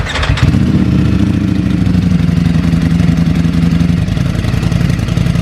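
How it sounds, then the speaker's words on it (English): A 2020 Ducati Streetfighter with a full Akrapovic exhaust, baffles installed, fires up and runs loud and close, its rough mid-pitched engine rumbling steadily without pause. "Now we can do some revs for you guys."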